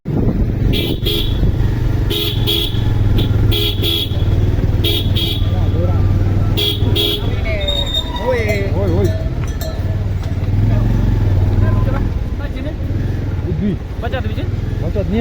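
Motorcycle engine droning close by from the pillion seat of a horse handler's bike on the Kedarnath route, with repeated short car-horn toots early on and people talking over the road noise throughout.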